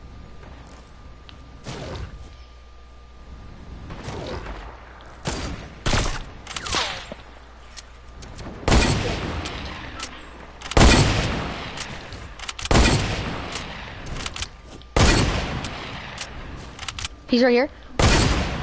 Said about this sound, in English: Where are those guys at that are shooting at us?